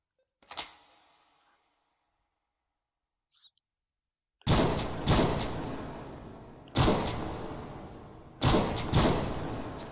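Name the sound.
gun's stripper clip mechanism loading rounds, from a video game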